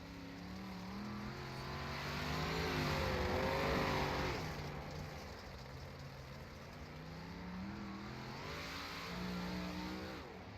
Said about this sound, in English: As there you see Horner around the speedway, coming around to set his lap.